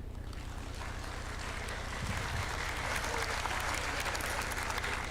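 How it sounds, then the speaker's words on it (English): Sustained audience applause at a business summit, with a large crowd clapping steadily and evenly throughout, growing slightly louder partway in, with no voices rising above it. "Can we have a round of applause for Shri Subbaraman B, Senior Vice President, HCL Technologies."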